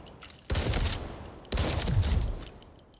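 Two long bursts of rapid automatic fire from an MK47 rifle in the video game Delta Force, each lasting about a second, loud and close with a brief quiet gap between them.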